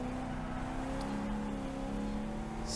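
A Chevrolet Corvette on the National Corvette Museum race track, a steady engine drone holding an even tone as the car eases through a corner, continuous and close with no talk.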